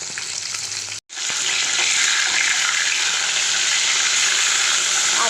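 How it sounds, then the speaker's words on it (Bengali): Rohu fish frying in a wok gives a loud, dense, continuous sizzle and hiss heard up close, with a brief cut of silence just after the start before the steady frying resumes. "এদিকে মাছ ভাজা চলছে"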